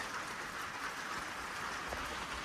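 Steady rain falling, heard from a porch in rural Maine, a continuous hiss of drops on surfaces with no talking.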